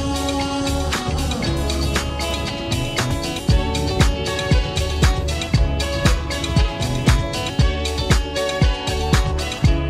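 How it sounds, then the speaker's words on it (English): Live drums pounded by a street performer at Bondi Beach in Sydney, loud and close, with steady driving beats and crashing cymbals over a dense, continuous backdrop for the whole stretch. "Coming up to some loud drums."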